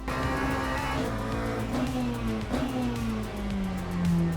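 A race car in a racing video game laps the track, its engine droning loudly and steadily with rising and falling pitch as it shifts through gears, with brief tyre squeal.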